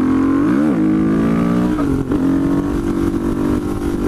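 A supermoto motorcycle engine revs loudly and close by in third gear. The pitch rises and dips with the throttle, then settles into a strong, steady drone.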